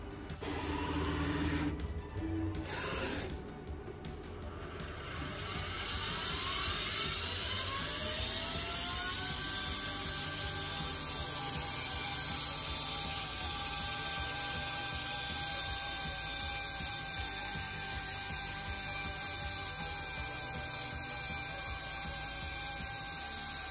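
A Bengal Master CNC machine's surface-scanning sensor working over a bracelet: after a few brief clicks, a steady mechanical whir builds and holds with a rising tonal whine, continuous and fairly loud, with no talking.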